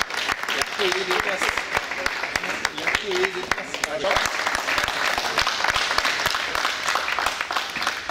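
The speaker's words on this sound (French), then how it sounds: "je pense qu'ils méritent une ovation" Sustained audience applause and ovation at a Peugeot (Blue Automobiles) elite presentation, dense continuous clapping from a crowd holding steady for the whole stretch, with faint voices mixed underneath.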